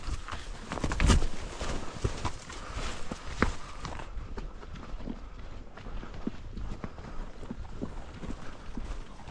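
Horse hooves clip-clop on the ground during an elk hunt on horseback in Idaho, with uneven thuds and steps repeating close by over several seconds and no talking.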